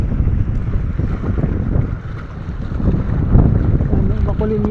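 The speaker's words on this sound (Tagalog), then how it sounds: "Rinig na rinig talaga yung hangin nito" Strong northeast monsoon wind, the amihan, roars steadily and loudly across an open microphone under overcast skies, a dense continuous rush with gusty swells and buffeting, with a faint tonal hum near the end.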